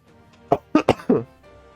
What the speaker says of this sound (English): I hope that's canceling out my coughs